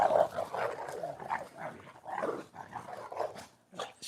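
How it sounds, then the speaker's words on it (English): A Rottweiler barks and growls excitedly in several loud, close bursts spread across the moment, with uneven pauses between outbursts and no talking. "And my Rottweiler reacts to it."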